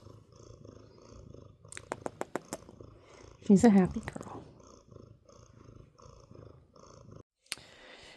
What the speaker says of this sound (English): Can you hear the purrs?